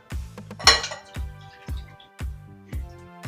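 A utensil knocks against a bowl in regular strokes, about six clinking hits, close and clear, while milk is mixed into muffin batter, with no talking.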